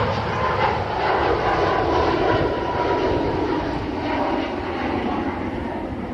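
Airliner departing Manchester Airport, a steady broadband engine roar that stays loud and fairly constant throughout, with no clear rise or fade.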